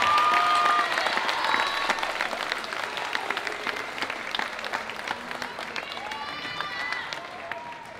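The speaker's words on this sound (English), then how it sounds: "Let's give them a round of applause, folks," An audience applauds warmly after a high school band's spring concert, a dense round of clapping with some cheering and scattered voices, strongest at first and slowly fading.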